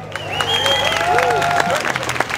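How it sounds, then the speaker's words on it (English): Crowd applause for the mayor of Bentonville at an outdoor Christmas lights event, a dense wash of clapping and cheering with a voice or tone riding over it. "Give a nice big round of applause for the mayor of the city of Bentonville"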